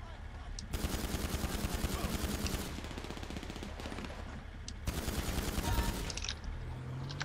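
Rapid bursts of automatic gunfire in GTA 5 Online, loud sustained volleys with a brief pause before another long burst, no talking over it.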